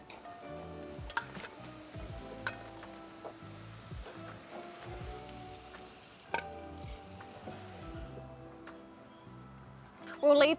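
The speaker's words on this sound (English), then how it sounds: "We'll leave those veggies to cook for about 4 to 5 minutes over very high heat, only turning once or twice." Vegetables sizzle over very high heat on a barbecue, a steady frying hiss broken by scattered clinks and scrapes of turning, with a voice talking over the cooking.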